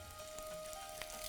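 Fenugreek seeds and chili hit hot oil with a steady, soft sizzle for kadhi pakoda, small crackles popping through a faint continuous fry.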